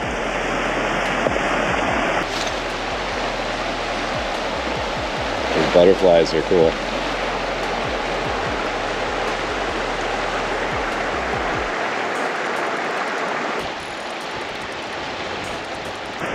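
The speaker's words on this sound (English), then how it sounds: "Let's check out the little creek here." Small, clear creek in Idaho on an overland Jeep trip, a steady broad rush of flowing water running close and loud throughout, with someone speaking briefly over it.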